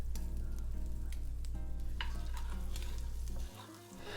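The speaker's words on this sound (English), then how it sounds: "I'm going to add a little butter to this pot. We're going to start sauteing those veggies" Vegetables sautéing in butter in a pot, a continuous close sizzle with a steady low hum beneath and intermittent stirring scrapes and clinks, dropping slightly near the end; no speech.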